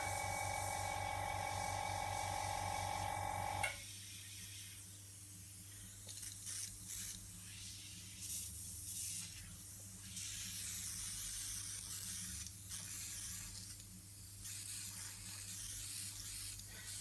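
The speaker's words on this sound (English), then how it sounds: "So I'm going to sort out this airbrush now because the noise it's making and the way that it's coming out." An airbrush spraying ink gives a continuous soft hiss with uneven spluttering bursts, following a few seconds of a buzzing, pitched hum that cuts off abruptly; the spray is fairly quiet and close, with no talking.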